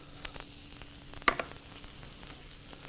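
Butter melts with julienned lemon rind in a hot pan, giving a soft steady sizzle punctuated by a couple of faint clicks and one sharper knock near the middle.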